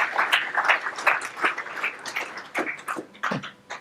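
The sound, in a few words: audience applause after a conference talk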